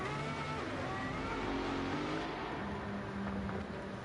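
Lamborghini Aventador engine in the Gran Turismo 7 racing game, a continuous close engine drone with shifting pitch that holds steady throughout at fairly low level, with no talk.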